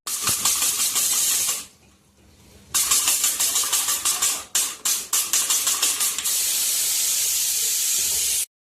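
Onion sizzling in hot oil in a pan for dry potato sabzi, a loud steady hiss with brief crackling breaks and a short quieter gap partway through.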